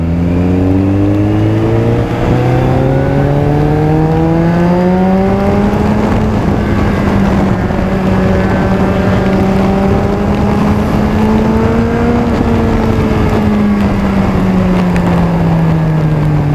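A loud Suzuki GSX 1250FA motorcycle engine revs steadily, its pitch climbing, dipping and rising again in long sweeping waves, close and continuous with no voices.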